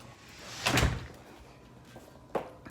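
Main door of a house swinging and closing with a solid thud at close range, followed later by a lighter latch click and knock; no talk over it.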